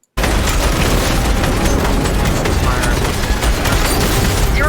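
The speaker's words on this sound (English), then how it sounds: "Those crystals will detonate the 0 point." Crystals detonate in the Fortnite video game as a dense, continuous barrage of loud, booming explosions and pops, sustained at full volume for several seconds after an abrupt start.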